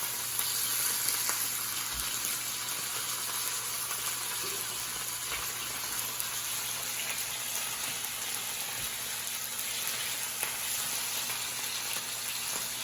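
Salmon fillets sear in a hot pan with a steady, dense sizzle and crackle that runs unbroken throughout, with occasional sharper pops and no talking.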